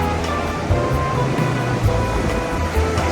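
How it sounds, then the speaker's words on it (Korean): Strong winter sea waves crash on a beach in a continuous loud roar of surf, with heavier low surges breaking now and then and some wind, no voices. "오늘은 파도가 좀 센 날 같아요. 이게 겨울 바다라서 파도가 아주 좀 이렇게 셉니다."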